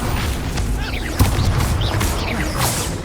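In a Hogwarts Legacy duel, an Expulso spell bursts with a crash followed by swooshing debris and clattering impacts, loud and dense over about three seconds.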